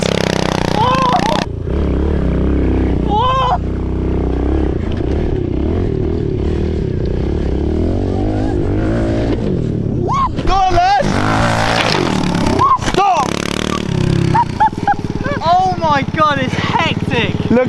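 A 110cc motorbike is raced around a bumpy playground, its engine whining and revving up and down through the run while people talk and shout excitedly over it.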